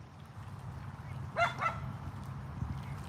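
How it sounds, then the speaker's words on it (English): A dog gives two quick barks at mid-distance outdoors by a catfishing spot, over a steady low rumble of background noise. "He lost interest in me when he heard that other dog."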